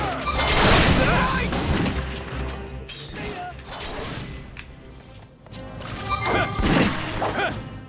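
Combat in Final Fantasy Type-0 HD rattles with rapid bursts of gunfire, crashes and booms in repeated waves, loud and dense, with voices mixed in among the action.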